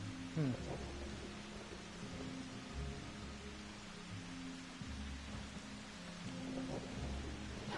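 Steady rain hisses through a Final Fantasy XIV scene, a broad wash of falling water with low rumbling beneath it and a brief thump early on, soft and continuous with faint game sounds.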